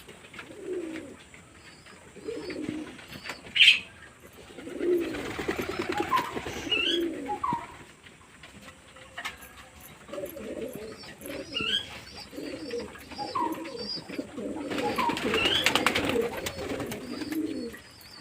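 Soft coos of young pigeons repeat in low rounded bursts, with occasional chirps and a brief sharp sound, fairly close and moderately loud.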